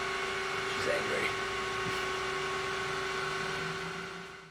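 A tiny home server built as a Pi-hole security appliance runs loudly with a steady fan whir and electrical hum, close and constant, with a brief voice murmur near the start.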